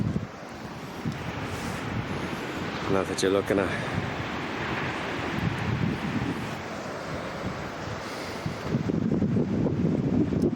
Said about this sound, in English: It's a few waves.